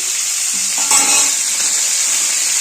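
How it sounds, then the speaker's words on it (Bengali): Cauliflower florets frying in a pan with salt and turmeric give a steady, close, even sizzle with a brief stir or scrape in the middle. "নুন আর হলুদ দিয়ে ফুলকপিগুলোকে ভেজে নেব"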